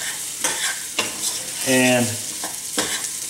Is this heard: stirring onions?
yes